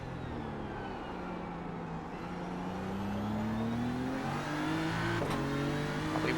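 GT3 race car engine in iRacing revs up steadily through the gears, a rising harmonic whine that grows louder over several seconds with a brief shift near the end.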